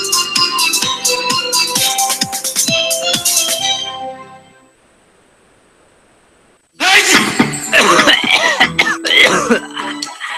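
Coughing and throat clearing in a Procold cold and flu medicine advertisement, several dry coughs in a row at first, then a pause and a burst of lively voices and sounds.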